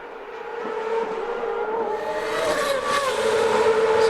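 A CART race car runs a hot qualifying lap on the Long Beach street circuit in 2002, its engine droning loud and steady and climbing gradually in pitch as it accelerates.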